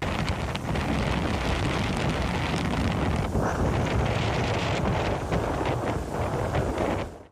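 Strong gusting wind from Hurricane Debby lashes the Florida coast, a loud, continuous roar buffeting the microphone with rushing, turbulent noise that fades out at the end.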